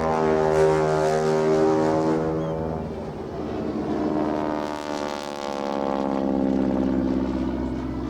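A T-6 propeller airplane makes a low pass along an air show line with gear and flaps down; its loud, droning engine swells and shifts in pitch as it passes nearby.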